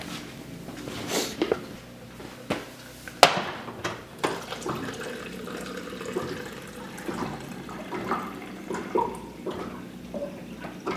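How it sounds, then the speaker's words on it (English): Water is poured and sloshed into a container to mix a creatine pre-workout drink, with splashing, trickling and a few knocks and clatters against a quiet room. "I'm gonna mix this with water."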